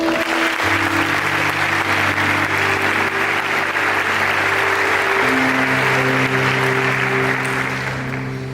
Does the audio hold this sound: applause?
yes